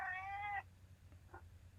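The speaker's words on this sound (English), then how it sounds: "I hear a cat." A cat gives one clear, drawn-out meow lasting about half a second, fairly close, followed by faint small noises over a low background hum.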